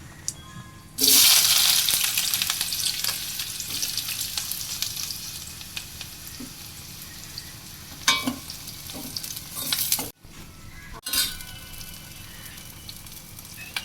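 Onions tipped into a pan of frying cumin seeds for a tangy mango fish curry, a loud burst of sizzle that settles into steady frying hiss with stirring scrapes, then a brief pause and renewed sizzling.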